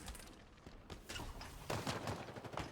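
Weapon gunfire in Halo Infinite, quick bursts of shots at low overall level, thickening into denser rapid fire in the second half, with no speech.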